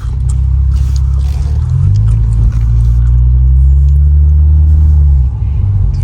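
An Infiniti Q50, lowered, back running after a turbo repair: deep, loud low-pitched engine burble idling close by, with a slight rise in pitch midway before settling, steady throughout with no talk.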